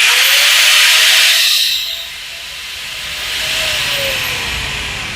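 A Dewalt DWE8200PL 850-watt angle grinder runs loud and close with a high whining hiss, then winds down as it is released and its pitch drops away.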